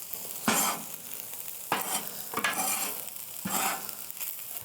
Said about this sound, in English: Okay, and now we mix.